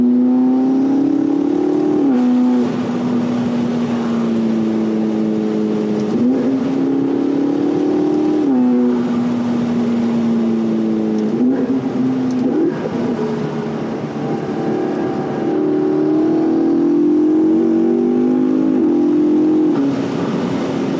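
A tuned 2012 McLaren MP4-12C with a 3.8-liter V8 and seven-speed dual-clutch gearbox drives along, its engine droning loud and close, pitch climbing through revs and dropping at each of several quick upshifts.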